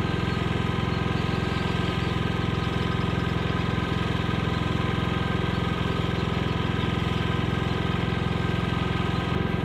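Predator 9500 inverter generator runs in eco mode with its exhaust facing the listener, giving a steady, loud, even drone with no breaks.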